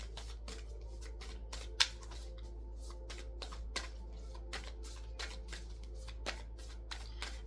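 Oracle cards being shuffled by hand in a quiet room: a series of quick riffling, flicking bursts at irregular intervals over a low steady hum, close and soft, with no talking.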